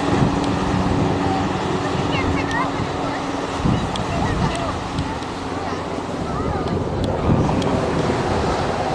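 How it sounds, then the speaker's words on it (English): Ocean surf breaks steadily along a Hawaii shore where surfers wait offshore, a dense continuous roar of waves with heavy wind buffeting the microphone throughout. "Just look at the way the waves just build up in this area."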